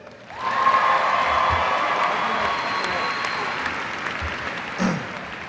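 A graduation audience at Martin High School breaks into sustained applause that swells quickly and holds steady, dense clapping filling the room.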